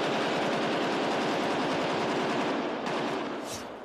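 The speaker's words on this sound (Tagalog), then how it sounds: "Hanggang umalingaw-ngaw ang magkasunod at nakabibinging ratsyada ng mga baril." Deafening bursts of rapid automatic gunfire ring out during an armed standoff at a Manila hotel, a dense continuous rattle of shots that echoes loudly for several seconds before tapering slightly, with no voices.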